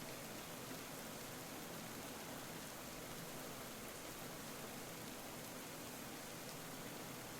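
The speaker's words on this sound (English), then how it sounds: "it's really starting to rain" Steady, dense rain hiss from the video game Ender Lilies: Quietus of the Knights, a constant wash of falling water that fills the whole stretch evenly, with no talking over it.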